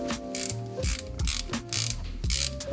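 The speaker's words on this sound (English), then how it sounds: "I just ordered these new ratchets off of Amazon from Tech10. Really good price, and I really like the ratchet on them." A ratchet wrench loosens bolts on a Jeep Wrangler JL differential cover, making a close, rhythmic series of clicking ratchet strokes, about five pulls with short pauses between them.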